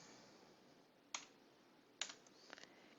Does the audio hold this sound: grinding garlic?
no